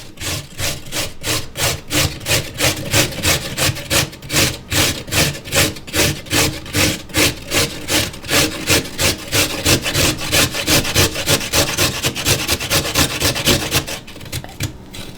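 Carrot grated by hand for a St. Lucian one-pot kingfish dish, a loud rhythmic rasping of steady back-and-forth strokes, about three per second, close and continuous without speech.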